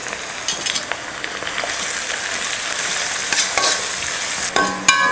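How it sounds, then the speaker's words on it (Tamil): Shallots and curry leaves sauté in hot oil for a chicken dish, making a loud, continuous crackling sizzle. Irregular stirring scrapes and pops run throughout, and a sharper burst comes near the end, with no speech. "வெங்காயத்தை இது போல் நல்லா பொன்னிறமாக வதக்கிக்கணும்."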